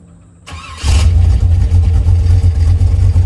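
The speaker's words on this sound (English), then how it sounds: "it's time for the final drive of the Jeep with the 355" A Jeep with a 355 engine that is burning oil starts up and begins driving, its loud engine settling into a steady, heavy rumble that fills the clip with no talk.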